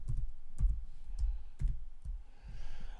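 Soft keyboard taps arrive in a slow, uneven rhythm, a handful of quiet clicks close by in an otherwise hushed room.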